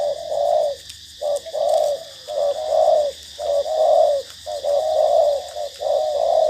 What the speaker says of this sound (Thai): ดูครับมันคู มันคูตลอดนะครับ